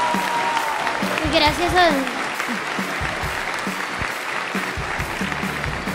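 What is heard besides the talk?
applause for William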